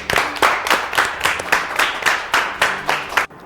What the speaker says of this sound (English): Clap it up again for Ms. Bush.